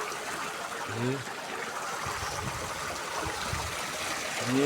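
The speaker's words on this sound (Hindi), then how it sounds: "ये पानी, ये देखो कितना बहुत पानी आ रहा है।" A large volume of water gushes out in a steady, rushing flow that floods the area, with a voice talking over the noise.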